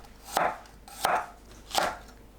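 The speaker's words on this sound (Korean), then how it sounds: "마늘을 편으로 썰어주세요." A knife slices garlic into thin slices on a cutting board with three soft, evenly spaced chops, each a brief muffled tap against a quiet background.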